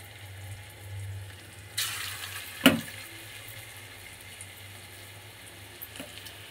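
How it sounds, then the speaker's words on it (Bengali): Chicken kofta balls sizzle in hot oil in a wok, a low steady frying hiss with a couple of sharp bursts as pieces drop in, close and with no talking. "একটু ভেজে নেবো এগুলো।"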